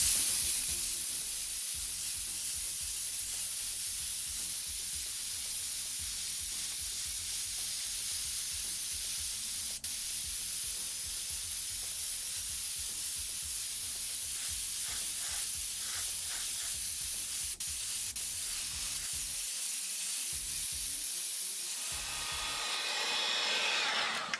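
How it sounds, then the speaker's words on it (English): Black paint hisses steadily and continuously from an airbrush sprayed over a checker pattern, a close, unbroken spray that fades out near the end. "Then we just take and spray in the black."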